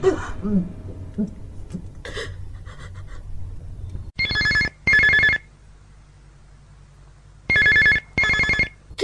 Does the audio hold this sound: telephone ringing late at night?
yes